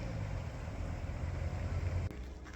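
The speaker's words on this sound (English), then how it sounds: "Driving away." A small Japanese K-Truck kei pickup, a Subaru Sambar Classic, pulls away on a snowy road, its steady engine drone and tyre rumble close and continuous before cutting off abruptly near the end.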